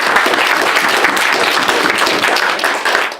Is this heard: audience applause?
yes